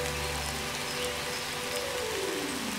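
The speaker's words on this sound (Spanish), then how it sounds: "La de la lluvia." Steady, dense rain hiss fills the whole stretch, a broad continuous wash with a low rumble underneath and no voices.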